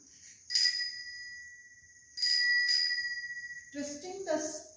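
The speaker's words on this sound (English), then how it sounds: "twisting the spring inside this bell, this is the spring inside this bell." A small bell is rung by twisting the spring inside it, giving two bright metallic dings that ring and fade, followed near the end by a clattering jingle, close and clear.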